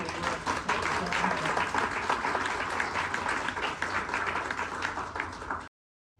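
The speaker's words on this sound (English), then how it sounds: "why don't we have a round of applause for the wonderful" Audience applause at an IVAT session in San Diego, dense sustained clapping throughout, fairly close, ending in an abrupt cut to silence.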